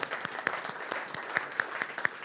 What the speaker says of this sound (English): That was big applause for you for the long journey.